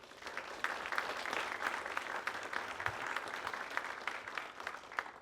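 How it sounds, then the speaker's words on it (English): Audience at a university presentation giving a short round of applause for student groups, steady dense clapping from a room full of people, fairly faint and distant, lasting throughout. "So quick round of applause for those groups."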